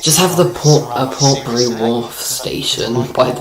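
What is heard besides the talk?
None of the usual background noises is heard.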